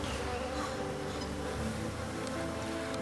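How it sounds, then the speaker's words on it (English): Sweat bees buzz close and constantly, a steady droning hum that holds through the whole stretch with no other sounds rising over it. "These sweat bees are driving me nuts"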